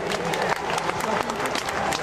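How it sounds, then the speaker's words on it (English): A crowd at an outdoor gathering in Washington DC breaks into applause, many hands clapping in a thick, continuous patter with some sharper individual claps and faint voices throughout. "Give them a hand clap of praise."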